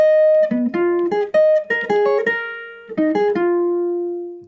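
A single-note jazz guitar line runs through an arpeggio over bar 17 of a jazz standard, pickup included, as a quick string of clear plucked notes shifting in pitch before one long note rings out and fades.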